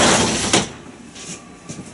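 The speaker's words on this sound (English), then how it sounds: "And look at this shower door. It is so awesome, guys." Shower door on a 2021 Grand Design Imagine 2600RB travel trailer slides with a loud broadband rush, then a sharp knock and a couple of softer bumps and scrapes as it settles, with no voices.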